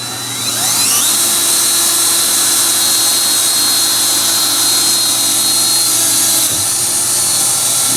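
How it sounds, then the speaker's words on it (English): A power drill bores out a screw hole, a loud steady high-pitched whine running almost the whole time, with a brief dip in pitch near the end. "We can drill this out before we keep forgetting and put some severe damage on this."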